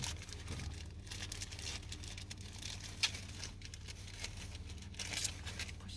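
A car key for a BYD Seal U DM-i being pulled out of a plastic bag, giving close, soft crinkling and rustling with a few sharper crackles across several seconds, fairly quiet and with no talking.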